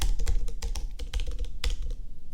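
Quick bursts of keystrokes on a computer keyboard as JavaScript code is typed, close and clear, with short pauses between clusters of taps and no talking.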